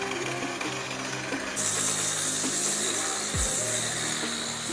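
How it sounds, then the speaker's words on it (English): A floor grinder working terrazzo flooring grinds with a continuous harsh buzzing roar, growing louder partway through, with a brief low thump near the end. "Power the grinder and do the grinding process."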